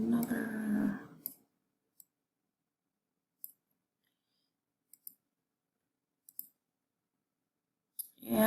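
Quiet, sharp computer mouse clicks come one at a time at irregular intervals while clicking and dragging in PowerPoint, following a brief stretch of talk at the start.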